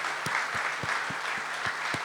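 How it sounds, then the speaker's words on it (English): Dealers clapping at a Tata Motors event for the launch of the Tata Xenon Yodha pickup; broadband applause with regular hand-clap pulses keeps a steady, moderately loud rhythm throughout, with no talk. "So give all of yourselves a fantastic round of applause."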